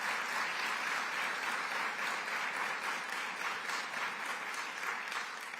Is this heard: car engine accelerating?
no